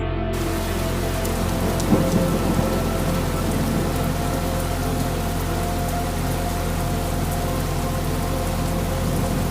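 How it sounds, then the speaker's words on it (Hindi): Steady heavy rain pours down in a dense, continuous hiss, close and unbroken for the whole stretch. "फिर एक दिन अचानक से बारिश शुरू हो जाती है।"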